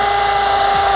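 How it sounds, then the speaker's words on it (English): A power drill whines steadily as it bores a drainage hole through a bowl in a backyard patio project, loud and close throughout with a constant high pitch. "I'm drilling a hole in the bowl for better drainage."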